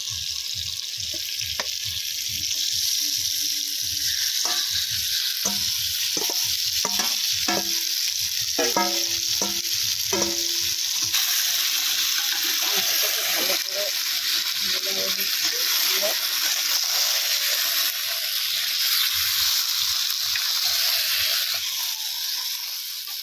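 Desi chicken pieces sizzle and fry in a fully cooked-down spiced masala, with steady loud hissing and repeated stirring clatters of a spoon against the pan, close up and continuous throughout.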